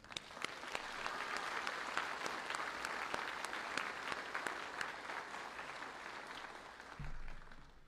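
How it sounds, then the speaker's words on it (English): Audience applause for graduating soldiers at a Fort Jackson Army basic training graduation ceremony, a steady wash of many hands clapping from a distance, holding even for most of the stretch and then thinning near the end. "I ask that y'all please join me in a round of applause for these distinguished soldiers."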